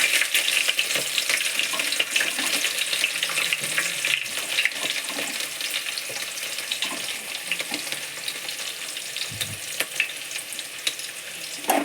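Onions, green chillies and smashed garlic sizzle loudly in oil for a paper poha tempering, with a dense, continuous crackle and occasional stirring clatter, up close and without speech.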